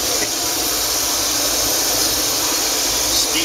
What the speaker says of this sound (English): steam release, right?